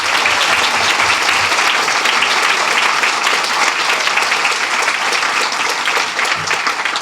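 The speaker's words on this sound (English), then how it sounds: "Let's give them a round of applause" Steady, dense applause from a large audience at a volunteer-run community philanthropy event, sustained loud and even for the full span with no talk over it.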